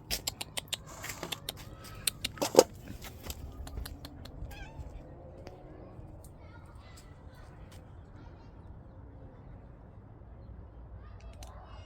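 Stray street cats being fed outdoors in Israel give faint, intermittent meows amid sharp clatters early on, then a low, steady background murmur.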